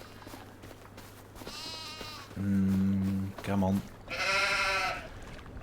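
Sheep in the Farming Simulator 25 game bleat several times in quick succession, loud and near, with someone speaking briefly between the calls.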